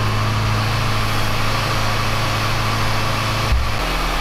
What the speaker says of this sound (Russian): грею двигатель до рабочей температуры